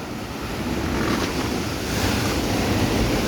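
Rough sea water surges below in a loud, unbroken wash of surf, with gusts of wind rushing across the microphone.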